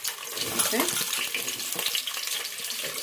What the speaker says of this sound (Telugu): ఇప్పుడైతే నూనె ఆగింది కాబట్టి ఉల్లిగడ్డలు వేసేస్తున్నాం కదా